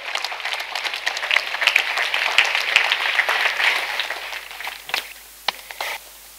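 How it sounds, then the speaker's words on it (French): A congregation at a French-English evangelical praise and thanksgiving festival bursts into sustained applause for Jesus Christ, a dense wash of clapping that thins into a few scattered claps near the end. "Let us clap for Jesus Christ."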